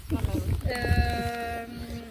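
A goat bleats close by on a farm in Saint-Vincent-en-Bresse, France, one wavering, drawn-out call rising over a person talking and low farmyard background noise.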